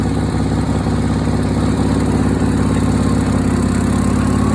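A 1976 Sears SS16 garden tractor with an Onan engine labors steadily uphill over an old septic mound, its low, throaty single-note drone continuous and close with no talking.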